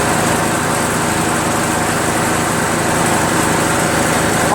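A Craftsman self-propelled lawn mower with a 6.75 Briggs & Stratton Quantum engine runs close by. It holds a steady, loud, buzzing drone at somewhat low revs.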